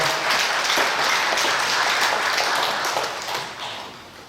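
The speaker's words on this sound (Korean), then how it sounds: "들어가실 때에 박수 주시기 바랍니다" Church congregation applauding at a service, a steady wash of clapping that fades toward the end.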